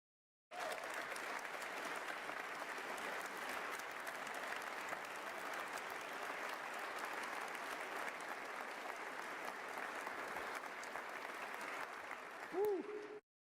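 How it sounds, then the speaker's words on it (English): Sustained audience applause during a state of the state address, a long, dense and even roar of clapping that carries on for many seconds before a short vocal whoop near its end. "y'all clap a lot"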